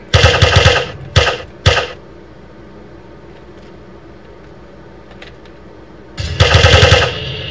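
Rapid bursts of Uzi submachine gun fire in the zombie video game Radio Zed, with three short bursts, a quiet lull with faint clicks, then a longer loud burst.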